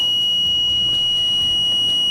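A microcontroller-driven water level control system at a dam sounds its alarm, a steady high-pitched electronic tone that holds unbroken over faint low background noise, close and moderately loud.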